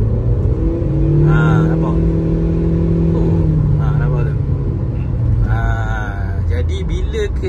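Proton Exora Bolt engine with a misfire revved at half throttle, a loud idle rising and falling in uneven surges and jerks, close by, with someone talking over it.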